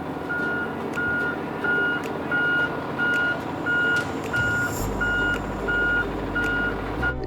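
A school bus backs up through a cone course at a school bus driving competition, its reversing alarm beeping steadily and evenly over a constant engine rumble, with no talk.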